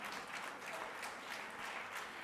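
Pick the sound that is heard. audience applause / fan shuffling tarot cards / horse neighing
audience applause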